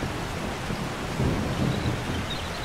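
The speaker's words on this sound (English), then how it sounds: "Oh, there's a big thunderstorm." A heavy thunderstorm in the survival game 7 Days To Die: steady rain hisses throughout while deep rolling thunder swells in the middle, loud and alone with no talking.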